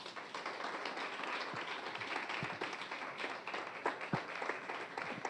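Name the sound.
church congregation applauding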